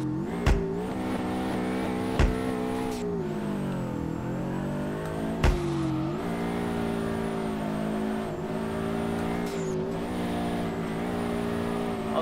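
A drift car in the video game DRIFT21, its engine revving hard and continuously, pitch sweeping up and down with several sharp clutch kicks punctuating the drone, tires squealing beneath, loud and close.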